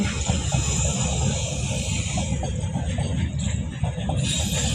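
A steady, loud rumbling roar of a freight train rolling past close by, continuous rattling with no talking.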